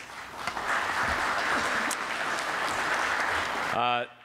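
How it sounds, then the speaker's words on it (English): Audience clapping at an innovation summit morning session, a steady, moderately loud round of applause that runs nearly four seconds before a voice begins speaking. "That was not a very loud clap for a significant partner."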